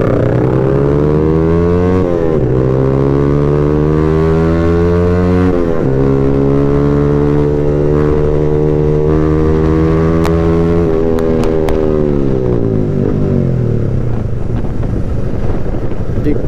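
A Yamaha R15 v3 motorcycle climbs through the gears on a road, its engine note rising steadily in pitch, dropping at each shift, then rising again under loud wind rush and a few words of talk.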